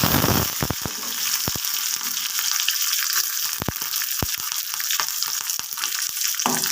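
Chopped shallots, chillies and curry leaves hit hot oil with popped mustard seeds, a loud, close frying hiss broken by sharp spattering crackles and a few stirring clicks.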